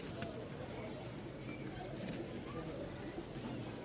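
Danish Giribaz pigeons coo steadily over a dense background of other birds, with a person talking nearby.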